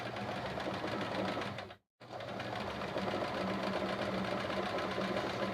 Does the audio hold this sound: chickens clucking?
no